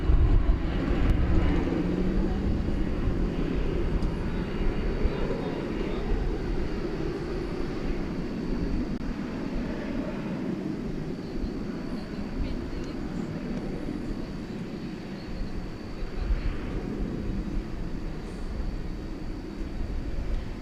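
A jet airliner at DFW Airport at night gives off a steady, broad engine roar that slowly eases over about twenty seconds, with faint voices underneath.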